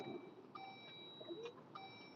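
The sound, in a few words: electronic beeping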